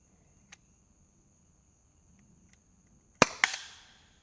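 Byrna Compact launcher rounds ricocheting off somewhere in the distance: two sharp cracks in quick succession with ringing, decaying tails, preceded by a few faint ticks over a steady high-pitched whine.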